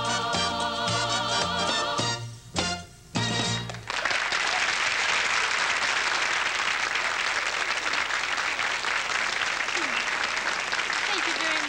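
A studio audience bursts into loud, sustained applause as a Mardi Gras song ends on a televised music variety show, with the last band notes fading into several seconds of steady clapping.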